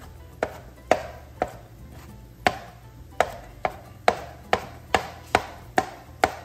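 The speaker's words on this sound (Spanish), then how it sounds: "Vamos a cortar el pimiento morrón" A knife chops a red bell pepper on a cutting board, about a dozen crisp, evenly spaced strikes with short decays, close and clear, no talking.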